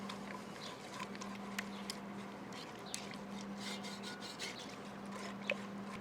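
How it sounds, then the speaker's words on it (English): A whisk stirs BBQ sauce ingredients, hot sauce among them, in a bowl, making a faint, steady scraping and rubbing with light repeated taps and no talk. "Whisk all the ingredients together."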